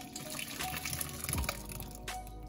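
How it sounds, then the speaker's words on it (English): Cooked, strained tapioca for Thai che is poured into cold water with ice, making a continuous rushing, splashing pour that ends with a heavier slosh, fairly close and with no speech over it. "Just pour it into the cold water, and that's gonna stop the cooking process."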